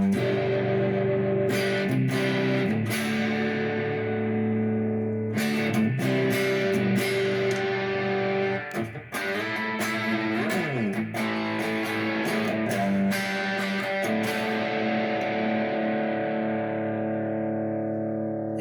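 An electric guitar plays with heavy distortion, chords ringing out and sustaining, with sharp palm-muted stabs in between; no voices.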